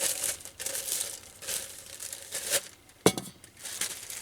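Crinkly plastic pad handled over a stainless steel copy of a 123 stove, rustling and crumpling in bursts, with one sharp clink near the end as it touches the metal, close by.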